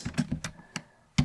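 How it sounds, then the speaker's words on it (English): Typing on a computer keyboard: a quick, uneven run of about seven sharp, quiet key clicks, close and alone. "This time we will type in APLLDS"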